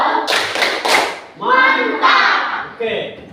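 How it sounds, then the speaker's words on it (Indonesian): Children in an elementary school classroom perform a thumb-clap chant, with bursts of rhythmic clapping mixed with chanting voices, loud and close, in several short phrases. "Oke, sekarang kita kasih tepuk jempol dulu semua."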